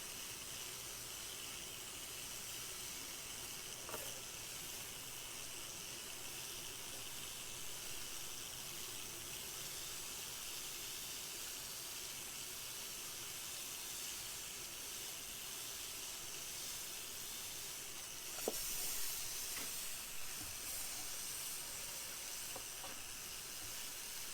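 A steady, soft hiss of steam rises from a steamer held over the top of a 1962 Harmony guitar in a guitar repair shop. It is faint and continuous, with a couple of brief clicks partway through.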